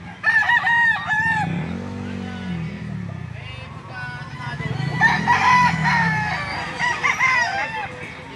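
A native rooster crows loudly and nearby amid steady clucking from other chickens at a chicken market in Lipa City, Batangas, with faint voices in the background.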